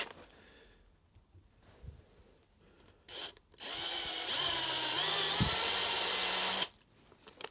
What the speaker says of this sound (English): Now I'll just drill a little pilot hole here,